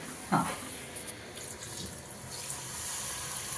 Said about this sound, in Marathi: आपण 2 पातेले पाणी टाकायचे यामध्ये